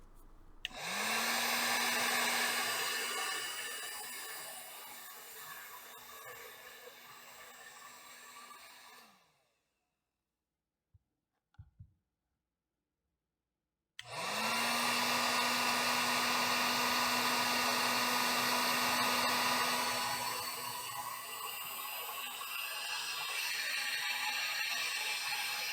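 Heat gun blowing on short pieces of heat shrink tubing over ham radio dipole antenna wires, a loud steady whooshing hiss that runs for several seconds, cuts off with a few faint clicks in the quiet, then starts again and holds.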